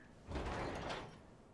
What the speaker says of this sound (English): Open this door.